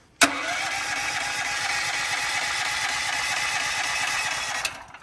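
A Westinghouse WGen9500 portable generator engine starts on its first try with a sharp catch, then runs loud and steady at a constant drone for nearly five seconds before a brief clunk near the end.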